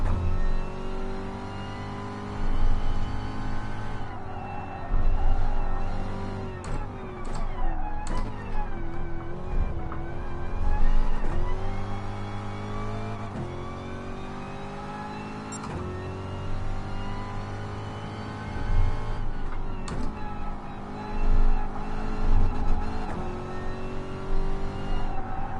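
A Corvette C7 race car engine roars in the GT Sport racing game on the Dragon Trail circuit, continuously revving up and down through gear shifts with other race cars nearby, loud and unbroken.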